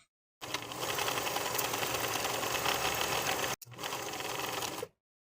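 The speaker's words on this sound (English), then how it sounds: "Sew both side back panels with a 1/2 inch seam allowance" A sewing machine stitches the side back panels of a dress with a 1/2 inch seam. It runs in two steady, close, even bursts with a brief pause between them.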